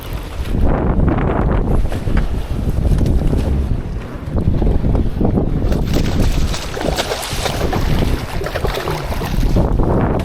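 Strong wind roars and buffets the microphone nonstop, a loud, rough rumble with rising and falling gusts and no voices.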